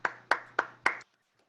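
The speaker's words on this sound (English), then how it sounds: "Let's clap." Four crisp hand claps come in a steady rhythm after an online talk, close and fairly loud, then stop abruptly into silence.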